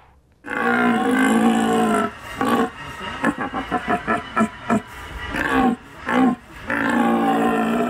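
A man blows a wooden call imitating a red deer's rutting bellow, producing a deep, hoarse roar that opens long and sustained, breaks into a rapid series of short grunting pulses, then ends with another drawn-out bellow, loud and close.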